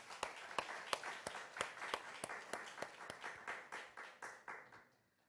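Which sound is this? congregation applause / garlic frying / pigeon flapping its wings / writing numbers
congregation applause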